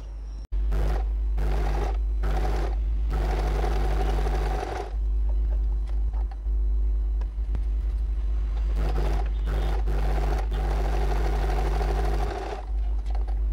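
A sewing machine stitches blouse fabric, running a close edge seam and a quarter-inch seam in long steady bursts with brief pauses between runs, loud and near with no talk.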